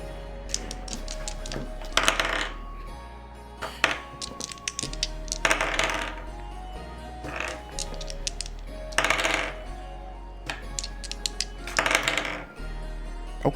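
Dice clatter across a tabletop in a few separate bursts of rattling clicks, close and fairly loud, during a tabletop role-playing game session.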